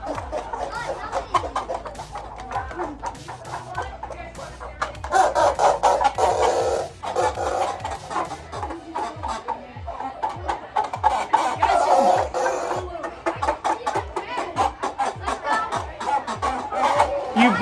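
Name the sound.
turkeys clucking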